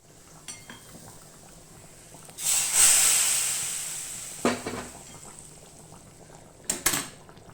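A mixture poured into a pot of simmering fish curry, a soft hissing pour that swells and fades over a few seconds, followed by a couple of light clinks against the pot amid quiet bubbling.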